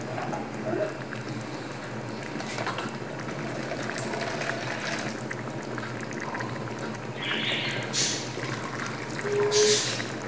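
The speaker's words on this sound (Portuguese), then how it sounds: "Vou passar uma água quente aqui." Hot boiling water being poured over cut pieces while making cuscuz paulista, a soft steady splashing and trickling stream with a few brighter splashes near the end.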